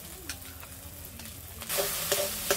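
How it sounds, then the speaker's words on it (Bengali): Spice paste with salt, turmeric and a little spiced water frying in a pan for a Bengali fish curry. There is a soft steady sizzle, and it swells louder partway through with a few stirring scrapes near the end. "সব একসাথে ভালো করে ভেজে নেব।"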